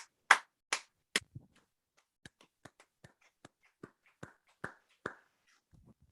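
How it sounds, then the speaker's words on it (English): A few sparse, widely spaced hand claps from one or two people on a podcast, each sharp and distinct, loud at first and then softer, with a quiet room between them. "I'm still going to do a round of applause"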